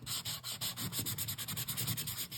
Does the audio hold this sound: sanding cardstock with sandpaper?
yes